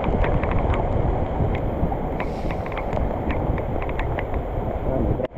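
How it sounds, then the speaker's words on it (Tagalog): Strong wind blows across open rice fields beside a flooded path, buffeting the microphone with a loud, continuous rumble and roar, with faint clicks and rustles over the top. "Ang hangin."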